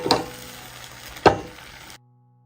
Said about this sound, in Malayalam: പെട്ടെന്ന് തന്നെ നമുക്കിത് ചുറ്റിച്ചു കൊടുക്കുകയും വേണം.